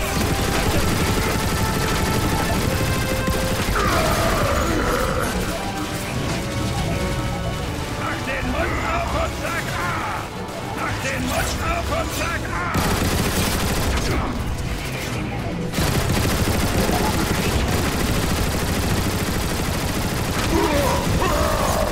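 Sustained bursts of energy-weapon gunfire and mechanical clatter fill a fight in the video game Transformers: War for Cybertron, loud and continuous with crashes, under game voices and music.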